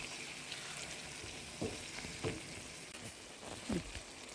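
Curry ingredients frying in a pan for chicken curry, a steady close sizzle with a few soft stirring knocks spaced through it; no voices.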